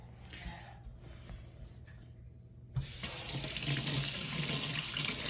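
Running tap water splashes into a sink as cracked eggs are rinsed, starting abruptly partway through and continuing steadily and close after a quieter stretch of faint room noise.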